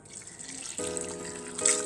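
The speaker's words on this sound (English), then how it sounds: "Add water and cover it to boil." Water pours into a cooking pot of Nigerian black soup with meat, a continuous splashing stream that grows fuller and more resonant as it strikes the pot, close and alone.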